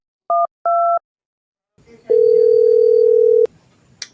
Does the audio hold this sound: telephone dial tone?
yes